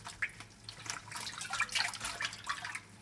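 Running tap water over homegrown perilla leaves as they are rubbed and rinsed one by one, a close, continuous splashing with irregular drips and brief spatters.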